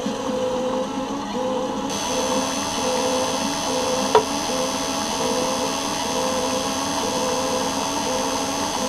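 JECS side-feed fuel injectors run on a test bench at 10,000 RPM, producing a steady, close mechanical whir with a faint rapid ticking and one brief sharp click partway through.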